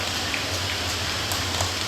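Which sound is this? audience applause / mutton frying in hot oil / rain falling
rain falling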